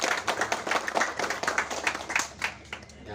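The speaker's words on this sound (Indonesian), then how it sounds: "tepuk tangan untuk beliau yang luar biasa" Audience at an Indonesian regional government event in Kuningan clapping steadily for several seconds, a moderate crowd of hands patting in a dense, fairly even rhythm.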